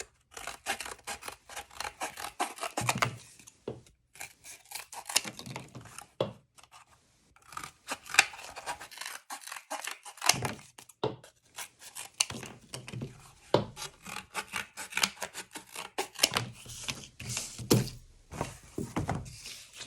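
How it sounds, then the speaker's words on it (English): Scissors snip through pieces of found material in repeated short cutting bursts, crisp and close, separated by brief pauses and occasional handling thunks. "I'm going to cut some different pieces, different sizes."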